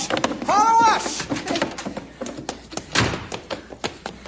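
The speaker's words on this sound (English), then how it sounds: "I'll get the cab door open." A fire engine cab door opens in a radio drama, giving a few close thunks and clatters while voices talk over and around it.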